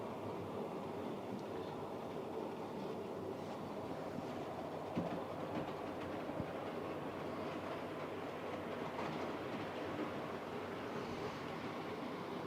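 Model train with an orange locomotive and dark-coloured carriages circling a layout, giving a steady, continuous rolling clatter with a faint rhythmic clack at moderate distance, running alone without talk.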